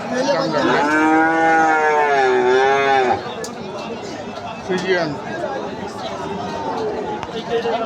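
Crossbred Friesian and Australian bulls at the Ambari cattle market, one bellowing a long loud moo up close, then fainter calls and shuffling amid steady crowd chatter and people talking.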